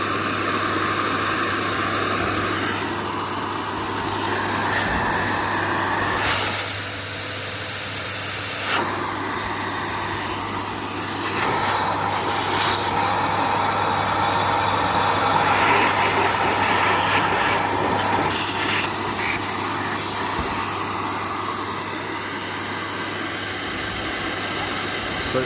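A hot tub blower pumps air into an inflatable tub, giving a steady, loud, close rushing hiss that roars on without a break for the whole stretch.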